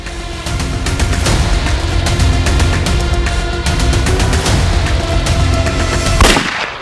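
Gunfire from a TV crime drama scene, a dense barrage of loud shots and booming blasts running continuously over a heavy rumbling backdrop, with a sharper burst near the end.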